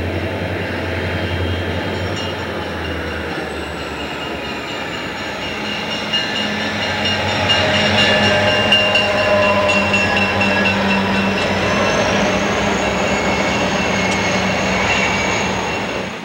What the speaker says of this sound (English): A Missouri, Kansas, and Texas GP40 leads a MoPac SD40-2 on an